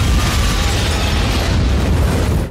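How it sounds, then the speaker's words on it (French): An explosion in a Captain America film, a loud, sustained blast with a roaring, rumbling burst that fills the whole moment and then cuts off abruptly. "Le père de T'Challa périt dans l'explosion."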